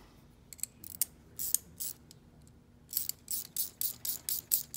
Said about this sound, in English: open end wrench, and we're going to tighten that down